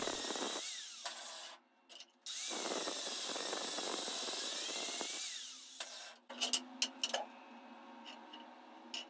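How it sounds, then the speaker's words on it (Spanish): An angle grinder whines loudly as it grinds down the back of welded metal supports, running in two long steady passes with a brief dip between, then winding down into scattered metallic clicks. "lo que hago ahora es desbastar esa parte, porque es la parte de atrás"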